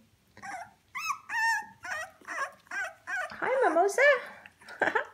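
Three-and-a-half-week-old puppies whimper and yip in a rapid series of high, wavering cries, close by, mixed with soft squeals.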